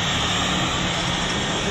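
Cordless Makita or DeWalt router motor running at full speed, a steady, loud, high-pitched whine that stays constant throughout.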